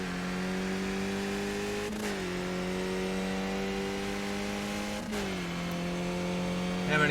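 Race car engine in the racing simulator rFactor holds a steady high-pitched drone near at hand, with two brief dips where the pitch drops for a gear shift before climbing and holding again.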